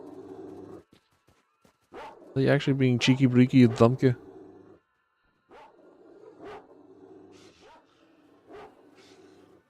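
Armored mutant dogs in the video game STALKER: Shadow of Chernobyl bark in a burst of yelping, whimpering cries, close and loud, while someone talks over the gameplay before and after.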